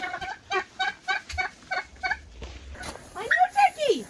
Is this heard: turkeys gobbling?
yes